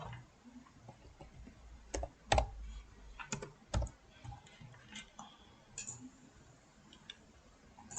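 Scattered keystrokes on a computer keyboard as a surname is typed into a form, quiet and close, with irregular clicks and short pauses and no talking.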